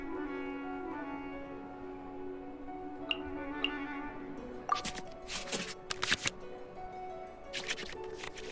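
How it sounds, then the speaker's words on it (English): In a video game, cards shuffle back into the draw pile with quick papery riffles and flicks, preceded by a soft tonal chime and two small ticks over faint background music. "we can select any number of cards in our hand to shuffle back into the draw pile"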